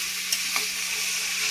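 Grated carrots for halwa sauté in a pan with a soft steady sizzle, broken by a couple of quick scraping stirs near the start, close and without speech.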